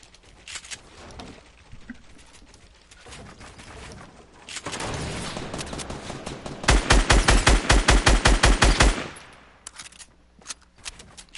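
Fortnite gunshots: scattered single shots build into a loud, rapid automatic burst of evenly spaced cracks that lasts a couple of seconds, then a few lighter shots follow.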